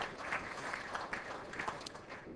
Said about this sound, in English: No one's going to give me a round of applause?